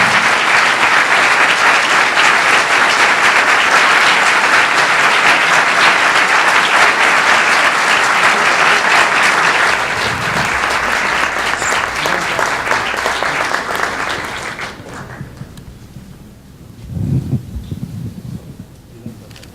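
An audience at a professional certification panel claps in sustained, dense applause that fills the room, then thins out and fades into scattered claps and quiet rustling.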